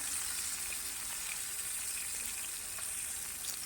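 Roopchand fish fries in hot oil outdoors in a village, a steady, hissing sizzle that holds evenly throughout, close and fairly quiet, with no talking.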